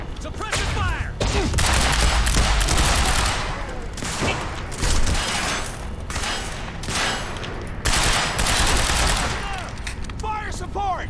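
Rapid volleys of gunfire in Quantum Break crackle in repeated loud bursts of automatic fire, with shouted voices mixed in among the shots.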